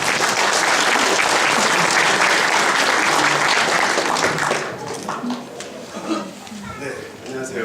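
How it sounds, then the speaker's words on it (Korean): An audience at a book launch and talk event claps loudly to welcome two guests, a dense roar of hands that fades after about four and a half seconds into quieter scattered claps and murmuring voices. "다시 한번 두 분을 환영하는 박수 부탁드리겠습니다."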